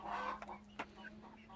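Chickens cluck softly in short, scattered calls, with a faint steady hum in the background, in mild 20-degree weather.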